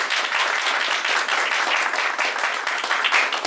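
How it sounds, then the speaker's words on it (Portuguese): An audience applauds a student at a talk on hypnosis and magic, with steady, dense clapping from many hands that holds level throughout. "Primeiro, palmas para o Sal, né?"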